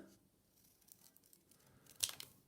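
Scissors snip through folded paper in a quiet moment, faint rustling followed by one short, sharp crisp cut near the end.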